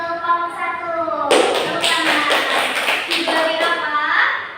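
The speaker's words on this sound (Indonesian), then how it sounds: "kita beri tepuk apresiasi untuk kelompok 1" Applause breaks out from a class of young pupils for their classmates, a loud burst of clapping and tapping mixed with children's voices and chanting.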